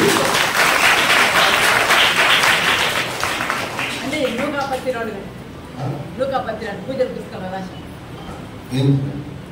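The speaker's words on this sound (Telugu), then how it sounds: "గట్టిగా చెప్పట్లు కొట్టండి." Audience applause at a Marian feast church festival in Lingampalli village, a dense steady clapping that fades after a few seconds, leaving scattered claps beneath someone speaking over an amplifier.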